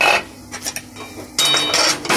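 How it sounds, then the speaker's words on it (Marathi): A metal lid is lifted off a kadhai of sheera on the stove, making a close clatter followed by a bright ringing scrape of metal and a second clang. "झाकण काढते।"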